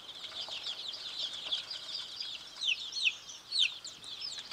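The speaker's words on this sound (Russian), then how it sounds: "последите-ка тут за моими цыплятами" Small chicks peep continuously and fairly faintly, with a few sharper, louder cheeps standing out against quiet background ambience on a village property.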